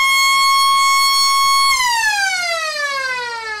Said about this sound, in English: Siren sounds for three-quarter time.